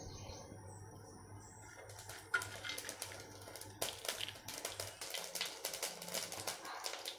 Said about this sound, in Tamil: கடுகு வெடிச்சிருச்சுங்க.